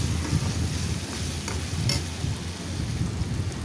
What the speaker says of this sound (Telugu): ఈ అల్లం వెల్లుల్లి పేస్ట్ అన్నది పచ్చివాసన పోయే వరకు మనం బాగా ఫ్రై చేసుకోవాల్సి ఉంటుంది